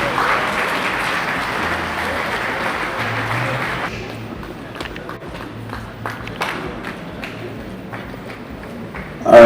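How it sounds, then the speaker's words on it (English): An audience applauds at a business summit, loud dense clapping that thins into scattered claps and footsteps as the crowd settles, with some talk underneath. "Please, a round of applause for Mr. Hakim."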